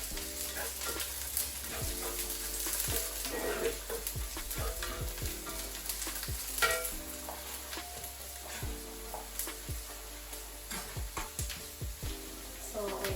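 Jackfruit pieces browning with a touch of sugar in a hot pan give off a soft, even sizzle. Scattered spoon stirs and light clinks break it at intervals, heard close with no speech.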